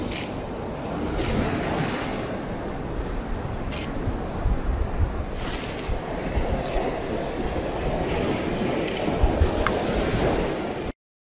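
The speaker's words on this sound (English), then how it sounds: "Wave, wave, wave, wave. Just crashing nice." Waves crash and surge along the Northumberland coast at Seahouses, a loud continuous roar of surf with several swelling breaks, heard alone.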